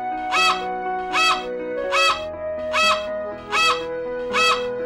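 Six loud, regularly spaced honking flamingo squawks from a children's zoo animal sounds game, each call ringing out over continuous background music.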